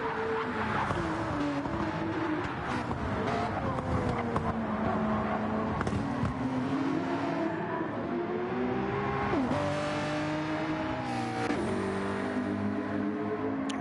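Race cars on the final lap at Deep Forest Raceway in a racing game: engines whine and rise through gears close by, pitch sweeping up and down with shifts and passing cars, loud and continuous, no talking.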